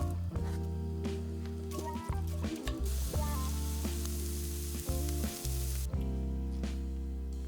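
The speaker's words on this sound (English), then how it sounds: "I started by melting some butter and caramelizing the sliced onion." Butter sizzles in a pan as sliced onion caramelizes, a soft hiss and crackle sitting beneath a prominent sustained musical backing that dominates the mix throughout.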